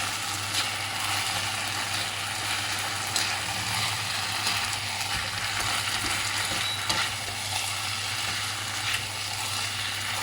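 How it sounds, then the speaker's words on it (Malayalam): Steady frying sizzle of fried cauliflower for gobi manchurian in a pan with scraping, stirring strokes throughout, close and continuous with no voices. "വറുത്ത് വെച്ച കോളിഫ്ലവർ ഇടും ഇതൊക്കെ ഇളക്കണം നല്ല പോലെ ഇളക്കണം"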